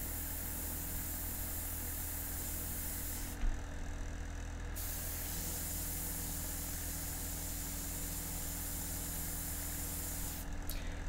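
An airbrush spraying India ink for a portrait gives a steady, close hiss of air that runs unbroken, with a brief cut in the upper hiss partway through.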